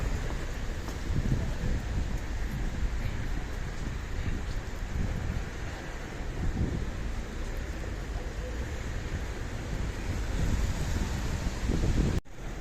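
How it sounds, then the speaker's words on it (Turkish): Steady, dense heavy rain roars without a break on a main street in Erzincan, a heavy wash of falling water that stays loud throughout. "Bayağı şiddetli yağıyor."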